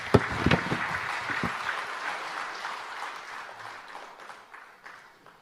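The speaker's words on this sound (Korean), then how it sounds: "박수로 환영해 주시기 바랍니다." A church congregation applauds to welcome a pastor to the pulpit, starting with a few sharp claps and settling into moderate, steady applause that fades gradually.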